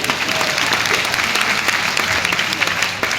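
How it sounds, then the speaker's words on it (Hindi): Dense, steady applause from an audience at a married couple's anniversary celebration, many hands clapping continuously and fairly loudly for the whole stretch. "एक बार जोरदार तालियां सब के लिए"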